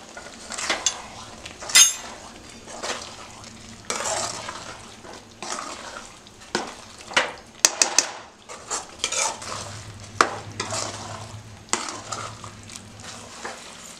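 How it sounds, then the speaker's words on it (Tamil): Homemade spicy mango pickle being stirred after country sugar goes in, with a spoon scraping and clinking against the pot in irregular strokes, close by and moderately loud, with no talking. "நாட்டு சர்க்கரையை போட்டுட்டு நல்லா கிளறி விட்டுக்கணும்"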